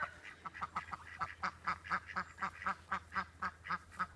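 Ducks quacking in a backyard: a steady, rhythmic run of about fifteen nasal quacks, fairly close and evenly paced, with no talk over them.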